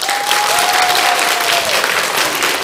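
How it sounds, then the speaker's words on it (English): Steady applause from a school talent show audience for young second and third grade performers, dense clapping throughout with a thin whistle-like tone running through the first part. "Let's give our participants another round of applause."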